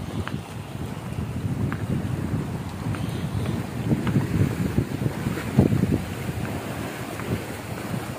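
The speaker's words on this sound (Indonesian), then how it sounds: "Deburan ombaknya aja luar biasa." Sea waves break and wash along the shore at a resort in Berau, mixed with steady wind rumble across the microphone, with a few louder surges near the middle.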